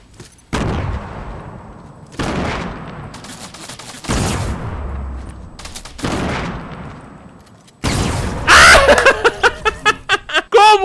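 Shotgun blasts in Fortnite, several loud booming shots spaced roughly two seconds apart, followed by a burst of rapid gunfire and sharp effects close up, with no talking.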